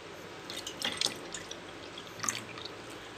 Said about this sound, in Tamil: இப்போ ஒரு டம்ளர் வந்து மோர் ஆட் பண்ணிக்கலாம்.